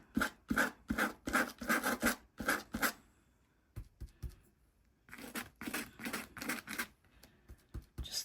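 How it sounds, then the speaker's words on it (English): An old, scratchy paintbrush scrubs paint onto paper in quick bursts of rough, dry scratching strokes. A pause follows, then a second run of strokes, all close and fairly faint. "Let's go in with our grungy old brush here and our scratchy brush"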